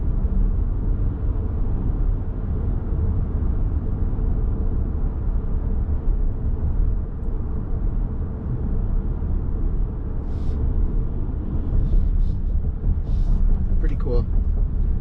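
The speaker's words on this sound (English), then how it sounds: "Let's just listen into how quiet it is at lower speeds." Steady low road hum and muffled tire noise inside a 2024 Toyota Grand Highlander Hybrid MAX moving slowly, even and fairly quiet throughout, with a few faint clicks near the end.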